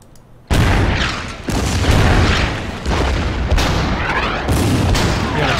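Artillery shells strike a tank in the Order of Battle strategy game's Winter War campaign on the Karelian Isthmus, a heavy boom followed by several loud, rumbling explosions in quick succession.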